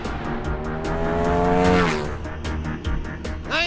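Motorcycle accelerating hard toward full speed, the engine note rising loud and near in a steady climb, then dropping away as it passes, with sharp clicking bursts in between.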